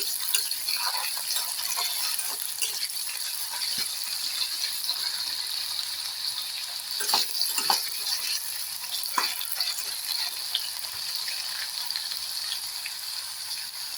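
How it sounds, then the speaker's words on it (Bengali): Potatoes frying in oil for a banana stem curry, a continuous close crackling sizzle with occasional utensil knocks and rattles while being turned, no talking. "আলুগুলো আমার লাল লাল করে ভাজা হয়ে গেছে।"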